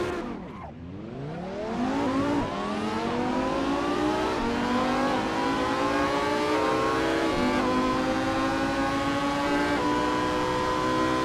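An F1 car engine in a racing video game rises from a low growl into a loud, sustained high-pitched whine that climbs steadily through the gears and holds near the top, with no talk over it.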